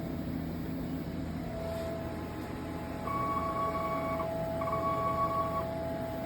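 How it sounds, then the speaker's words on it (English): An inkjet printer runs a nozzle check print, giving two steady whirring tones of about a second each, separated by a short pause, over a constant low hum; no one speaks. "then we'll do a nozzle check and see if we're good to print for the day"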